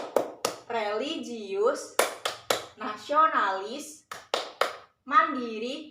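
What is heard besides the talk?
rhythmic PPK clapping demonstrated by a teacher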